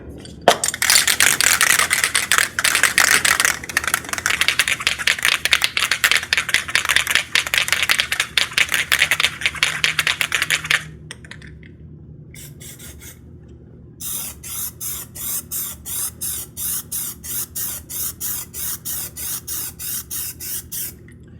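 Armor All Custom Shield removable coating sprayed onto a test panel: a loud, close aerosol hiss running steadily for about eleven seconds, a brief pause, then a series of short, evenly spaced spray bursts.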